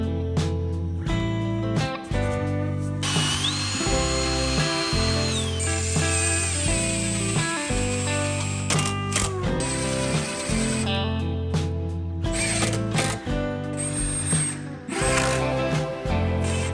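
A power drill drives screws to join kitchen cabinets laid on their backs, in repeated bursts of whirring with short pauses between them, close and loud, with no talking.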